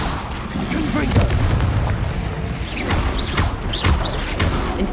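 Confringo blasting spell explosions in Hogwarts Legacy gameplay: heavy, booming blasts and crashing impacts that layer over dense, continuous battle noise at steady loudness for the whole stretch.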